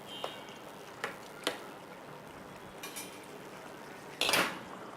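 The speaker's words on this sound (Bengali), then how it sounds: "আমি ঢাকনাটা দিয়ে দিলাম।" A lid goes onto a pan of rui fish curry (bhuna) to cover it: a single metallic clank near the end, preceded by a few faint soft clicks in a quiet kitchen.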